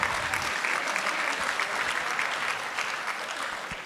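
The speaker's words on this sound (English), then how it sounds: "Round of applause." Sustained applause from an audience at a 60th anniversary celebration, loud and dense throughout, a full room clapping steadily and tapering slightly toward the end.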